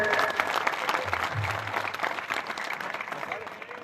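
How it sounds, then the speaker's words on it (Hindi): Crowd clapping at an outdoor community political gathering, a loud burst of applause that gradually thins and fades, with murmuring voices beneath it. "एक बार जोरदार तालियां बजाने चाहिए माता जी के लिए।"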